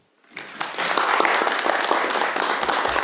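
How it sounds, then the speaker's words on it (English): Audience applause on a Zoom call, a dense burst of many hands clapping that starts abruptly and holds steady and loud to the end, with no talk over it. "I'll give you another round of applause"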